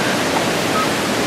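Flash-flood water from an overflowing creek roars in a loud, steady broadband rush, dense and continuous with no voices over it.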